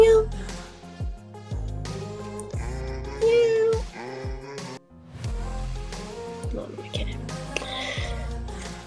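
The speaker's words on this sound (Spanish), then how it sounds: "Miau. Miau, miau." A cat meows repeatedly in a home, several drawn-out, tonal calls with short gaps between them, close and fairly loud, while a person speaks softly in between.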